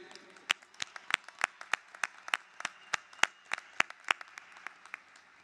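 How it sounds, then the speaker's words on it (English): Scattered, uneven hand claps from an audience at a university College of Education commencement ceremony, sparse individual claps in a loose rhythm rather than dense ovation, moderately quiet in a large hall. "each of us should take a moment and give ourselves a round of applause for being here today"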